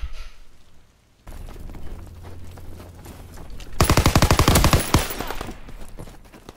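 Call of Duty WWII private beta gameplay: after a quieter stretch, a very loud, rapid burst of machine-gun fire hammers out for about a second, followed by trailing rumble.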